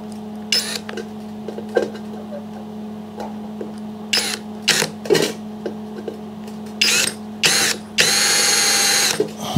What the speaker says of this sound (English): So what I'll do with that is just give it a bit of a drill.